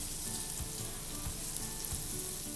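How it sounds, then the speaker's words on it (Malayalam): Cubes of paneer shallow-fry in oil in a pan, a continuous close sizzle with a few soft bubbling pops and occasional low stirring thumps, with no voices. "ഞാനിവിടെ ഒരു പാത്രത്തിൽ കുറച്ച് എണ്ണ ഒഴിച്ച് ഞാനിതൊന്ന് ഷാലോ ഫ്രൈ ചെയ്തെടുക്കുവാണ്"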